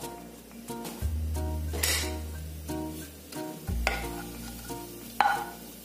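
Cumin seeds fry in lightly heated oil, giving a soft crackling sizzle with a few scraping clinks. Steady tonal music and a low hum partly mask it, and no one speaks.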